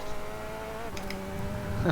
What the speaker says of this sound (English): Car on your left.